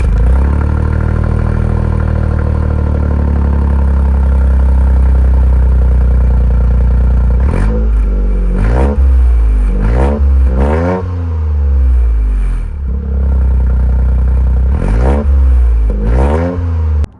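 A Toyota GR Corolla with its factory exhaust idles with a loud, steady low rumble, then gets sharp revs in short bursts, about four in a cluster and two more later, each falling back to idle.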